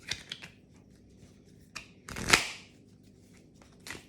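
Tarot cards get reshuffled by hand, a few soft riffles and one louder burst of card flutter, quiet and close with no voices.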